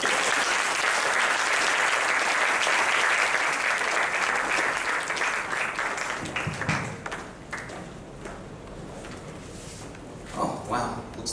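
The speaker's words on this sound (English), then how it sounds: "Please welcome Mr. Arram Kim to the stage with a big round of applause." Sustained audience applause at a festival opening ceremony, loud and dense at first, then thinning out into scattered claps and a few footsteps.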